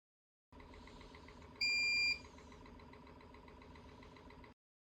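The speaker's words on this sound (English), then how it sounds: "A beep will confirm it." A Karl Fischer moisture titrator gives a clear, steady electronic confirmation beep of about half a second, sounding over a constant low mechanical hum from the instrument.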